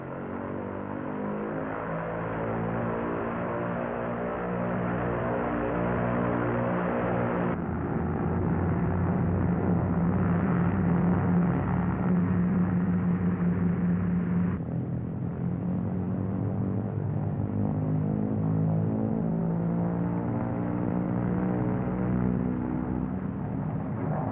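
Twin engines of a Lockheed P-38 Lightning run up to full throttle with brakes held, a loud, sustained propeller roar that rises in pitch and stays steady throughout, with no talk.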